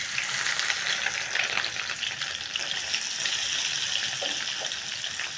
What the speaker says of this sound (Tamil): நல்லா மொறுன்னு பொரிச்சு வச்சுருங்க